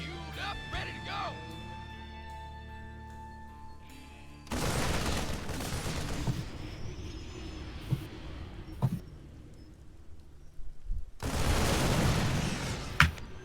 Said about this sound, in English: that allows the tanks to just shell away at the resistance